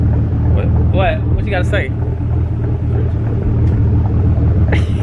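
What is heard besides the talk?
Nissan 300ZX twin turbo engine rumbling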